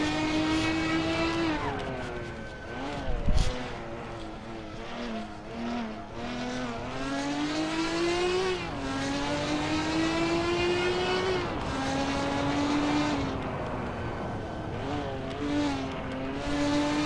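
Toy race car engine whining steadily in a Hot Wheels video game, a continuous buzzing drone that rises and falls in pitch as it accelerates, with one brief thump early on, heard alone for a long stretch.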